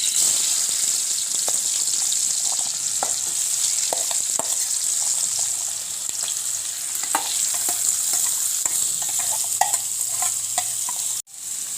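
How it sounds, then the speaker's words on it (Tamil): Potatoes deep frying in oil for Jaffna-style bread kottu, a steady bubbling sizzle with scattered crackles and pops and light utensil clinks, continuing evenly before a brief cut near the end. "இப்போ வந்து உருளைக்கிழங்கு பொரிஞ்சு வந்துட்டுது"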